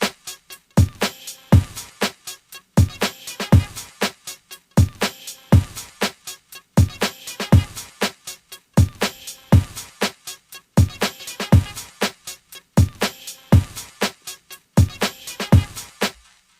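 A 120 BPM drum beat built from layered vinyl-sampled kicks, snares and hats, a steady repeating groove of punchy hits looping cleanly for the whole stretch with no voices.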